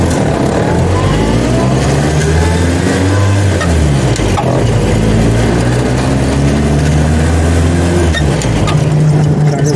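A Jeep CJ-3B with an Iron Duke engine pulls away in first gear, its loud, close engine droning and rising in pitch as it accelerates, dipping briefly before climbing again, with no talk.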